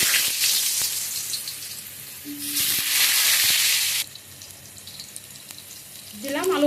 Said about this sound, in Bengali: এবারে আমি আলু কটা ভেজে নেবো